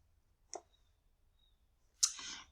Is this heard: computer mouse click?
yes